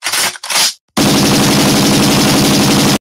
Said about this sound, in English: gunshots all over the place.